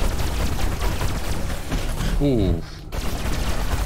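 Dense, rapid gunfire rattles almost without pause in Destroy All Humans 2, loud and close, broken by a brief lull while a voice exclaims, then resuming.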